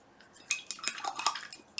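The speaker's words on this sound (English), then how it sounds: "Let's see what happens if we mix pyrrole red" Palette knife scraping and tapping as Golden Open acrylic pyrrole red is mixed with green paint, a quick run of light, clicky scrapes, close and quiet.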